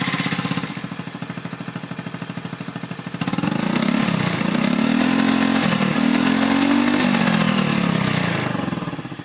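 A Honda Beat Fi scooter engine idles with a rapid putter, then is revved, the engine note swelling and holding high before easing back, close and loud without any talk.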